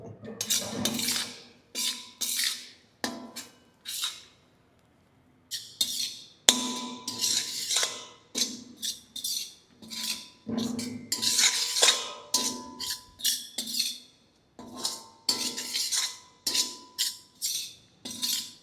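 Cooked rice being mixed by hand in a pan for tamarind pulihora, catering style, with repeated scraping and clinking strokes of a spoon against metal in an irregular rhythm, close and moderately loud, with short pauses between strokes.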